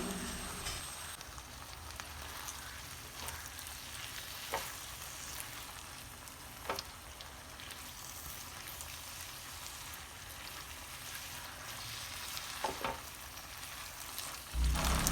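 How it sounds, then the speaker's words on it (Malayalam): Beef chilli being mixed in a hot pan with soy sauce, tomato sauce and red chilli sauce, a soft continuous sizzle with scattered light clicks of stirring, fairly faint and without talk. "soya sauce, tomato sauce, red chilli sauce ഇതെല്ലാം ഒഴിച്ചു കൊടുത്ത് എല്ലാം മിക്സാക്കി കൊടുക്കണം"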